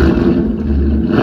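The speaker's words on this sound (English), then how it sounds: "a Borla Attack exhaust system so that your neighbors know when you're leaving in the morning." A 2020 Ford Mustang GT V8 with a Borla Attack exhaust rumbles steadily at close range, a deep throaty exhaust note holding loud and constant throughout with no talking.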